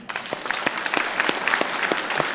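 A church congregation claps during a Sunday baptism service, a lively burst of distinct hand claps close by, sustained across the whole moment with no talking.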